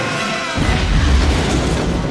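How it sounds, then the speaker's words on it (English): Firework explosions in the animated film Mulan: after a short quieter lead-in, a loud, dense booming rumble with crackling bursts that stays heavy and continuous. "there's no way he's going to survive those firework explosions"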